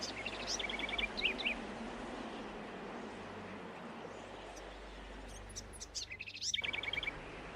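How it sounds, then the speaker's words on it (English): A cactus wren calls at dawn in the desert, its harsh, rapid chattering phrases repeating at the start and again near the end, carrying over a steady low background rumble. "The cactus wren, Arizona's state bird, announces the dawn with a harsh,"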